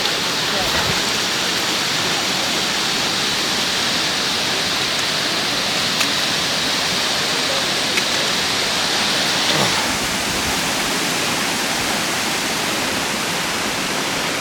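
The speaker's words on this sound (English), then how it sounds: "I want to show you all a little bit of the waterfall" A waterfall roars as a dense, constant rush of water heard from a cautious distance, steady and loud throughout with no break.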